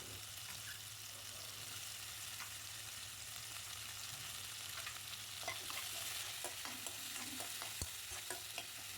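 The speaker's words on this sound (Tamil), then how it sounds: "தக்காளி நல்லா வதங்கினதுக்கப்புறம் பொட்டேட்டோ சேர்த்து அதையுமே நல்லா வதக்கி விட்டுருங்க." Potatoes tossed with softened tomatoes and onion in a hot oiled pan for chicken kuzhambu, a continuous close sizzle with a low steady hum beneath and sharper spatula scrapes and clinks growing busier toward the end.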